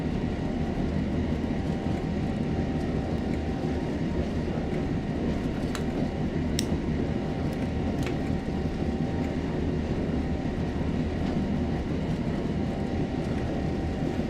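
Class 08 diesel shunter locomotive in the game Train Sim World 5, a steady low engine rumble and rolling rail noise throughout, with a few brief sharp clicks partway through.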